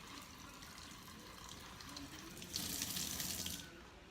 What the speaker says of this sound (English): grab a dry paper towel and turn off the faucet